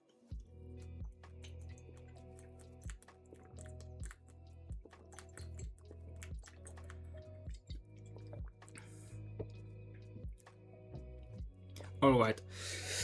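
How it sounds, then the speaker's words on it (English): A person sips and swallows water up close, with repeated gulps and wet squishy sounds in a steady rhythm and a brief louder splash near the end. "drink some water a bit"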